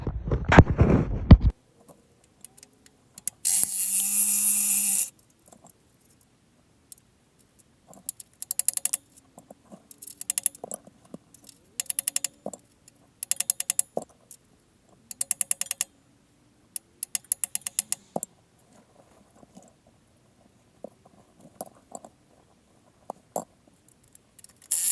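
Hand tools working loose the exhaust bolts and nuts under a 6.7L Cummins pickup, heard as bursts of ratcheting clicks and metallic rattles separated by pauses, fairly close and without talk.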